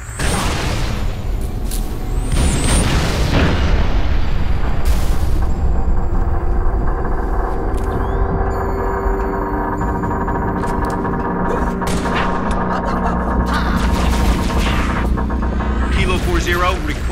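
An artillery barrage in the video game Halo Reach, a deep rolling rumble with repeated booming impacts that rise and fall throughout, loud and sustained, with radio-style voices speaking over it.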